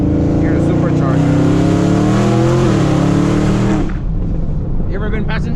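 A supercharged 800hp Camaro ZL1 engine revs loud and close, a steady high-rpm roar with a dip around the middle, then drops off sharply near the end to a rumbling idle with a few faint pops.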